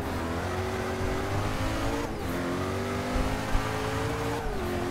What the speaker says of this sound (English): This car's mean and loud.